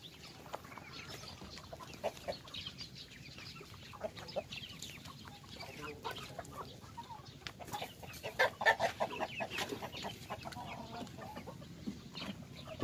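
Chickens and roosters cluck intermittently around a rural farmyard, faint and somewhat distant, with a brief burst of louder clucking partway through over a low background.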